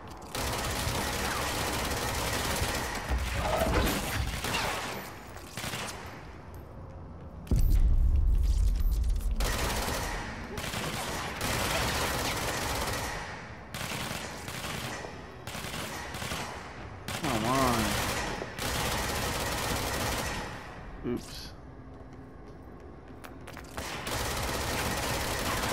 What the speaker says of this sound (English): What the hell's shooting at me?